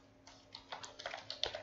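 A quick run of key clicks on a computer keyboard while Arduino code is typed, a short close burst of light taps.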